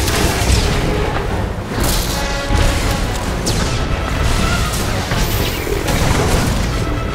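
Heavy missile attack explosions in Star Wars: The Old Republic, a continuous loud barrage of booming blasts and crashing impacts during a raid battle in the Eternity Vault, with no pause over several seconds.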